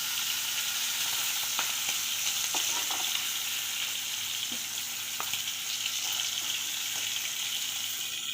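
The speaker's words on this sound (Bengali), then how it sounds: "মাছগুলো ভাজা হয়ে গেছে, মাছগুলো এখন আমি তুলে নেব।" Steady, fairly quiet sizzling of fish frying in a pan, with a few faint clicks and taps over the hiss.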